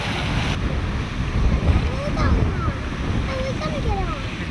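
Wind and water noise from out on the open water, with a boat's low rumble under gusty microphone buffeting and a few faint bird calls.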